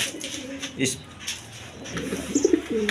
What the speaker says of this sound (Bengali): এক পেয়ার মিলি কালার কিং কবুতর আছে